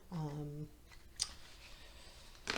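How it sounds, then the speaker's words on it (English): A Barbieri tarot deck being shuffled gives a short papery burst near the middle and another at the end, quiet and close, after a brief stretch of voice at the start. "I'm shuffling. I'm using the Barbieri tarot deck again."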